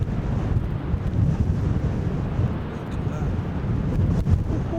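Cold, piercing wind on a remote northern coast buffets the microphone in a constant low roar with gusty swells, loud and close, with no other sounds above it.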